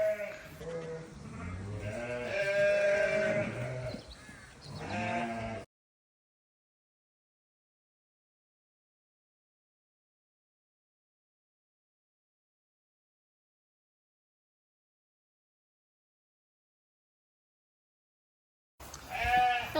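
Pet lambs on a farm during lambing season bleat close up in a quick run of cries for about five seconds, then everything falls silent until a brief burst returns at the end.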